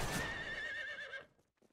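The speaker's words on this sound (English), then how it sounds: "I think someone's mounting their horse." A horse in the Western video game Fistful of Frags lets out a loud, close whinny with a wavering pitch that trails off after about a second, followed by a few faint hoof or movement sounds.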